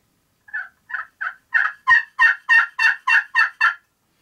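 Eleven turkey yelps scraped on a slate call, evenly spaced, starting softer and growing louder and fuller, close by with no other sound.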